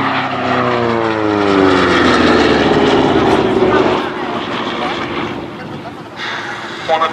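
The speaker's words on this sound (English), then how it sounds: "So now diving in from the left, the Republic P-47D Thunderbolt." A Republic P-47D Thunderbolt fighter dives past at an airshow, its loud propeller engine roaring and shifting pitch as it sweeps by, while a commentator talks over the public address.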